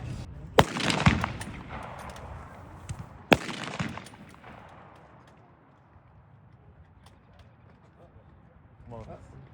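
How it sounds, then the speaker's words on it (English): A 1905-modernized rifle fires blank rounds at a Civil War show: two sharp, loud, close reports a few seconds apart, each followed by a rumbling echo fading into the open air, with voices in the background. "So I will attempt to shoot 4 rounds."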